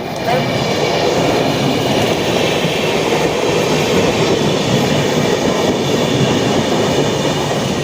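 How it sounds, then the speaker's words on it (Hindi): A train rolling along rails from Kanpur, with a loud, steady rumble and rattle of the carriage heard from inside, continuous throughout with no speech. "फाइनली हम लोग की ट्रेन कानपुर से चल चुकी है।"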